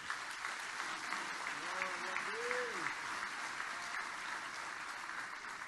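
A church congregation applauds during a pastoral sermon, a continuous wash of clapping at moderate distance with a brief vocal murmur rising through it midway.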